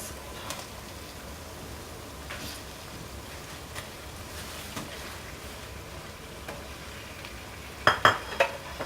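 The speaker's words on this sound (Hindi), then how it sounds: "अब इसको अच्छी तरह भून लेंगे।" Chicken and onions frying in a karahi give a low, steady sizzle with a few faint ticks, then a sharp cluster of metal scraping and clatter from the pan near the end.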